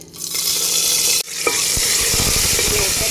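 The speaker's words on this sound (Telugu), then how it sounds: "ఆయిల్ వేసుకున్నాక పోపు దినుసులు వేసుకోండి" Whole tempering spices crackle and sizzle in hot oil for quinoa upma, a steady broadband hiss with a brief drop near the start, then popping bursts and a stirring scrape close up.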